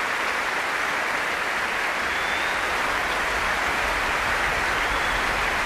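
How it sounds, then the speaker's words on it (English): Dense, steady applause from a large concert audience after Elgar's The Dream of Gerontius with the BBC Symphony Chorus, sustained at an even level throughout with no voices standing out. "arence Beebar, Keith Lewis and Willard White come out to take the applause"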